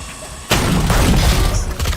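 Shorty shotgun blasts in Valorant during an esports semi-final match, a sudden loud boom followed by dense crashing gunfire and impacts that keep going, with caster commentary mixed in underneath.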